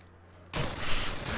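Gunfire in Call of Duty 4 breaks out abruptly after a moment of near-silence and continues as a dense, loud volley through to the end.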